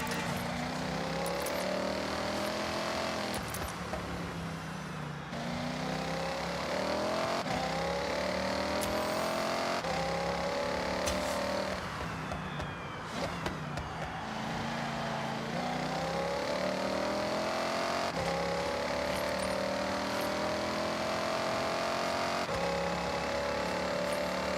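Car engine roaring and revving continuously in the racing video game Forza Horizon 6 on Japanese streets, with rising and falling pitch sweeps through gear changes, loud and sustained throughout.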